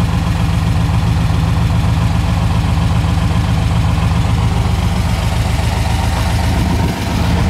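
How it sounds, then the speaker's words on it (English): A 1981 Camaro Z28 idles through its dual exhaust, a loud, close, steady low rumble with even pulsing that holds throughout, a brief dip near the end, and no talking. "Dual exhaust sounds great, no smoke."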